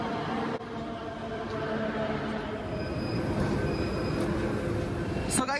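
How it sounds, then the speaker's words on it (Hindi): Inside a metro station a train rumbles steadily and close, with a wheel squeal toward the end, and faint voices under the noise. "हम पहुँच गए हैं मेट्रो"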